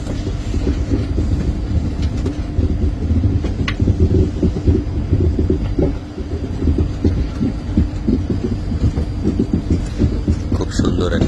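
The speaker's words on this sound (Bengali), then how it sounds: "এখন আপনারা দেখতে পাচ্ছেন গুয়াহাটি থেকে ছেড়ে আসা শিলচরগামী ট্রেন পাহাড়ি একটি ব্রিজ অতিক্রম করছে" A passenger train from Guwahati to Silchar crosses a bridge in the hills. A loud, continuous rumble and rattle comes from inside the carriage, with steady clickety-clack of the wheels and a voice talking over it.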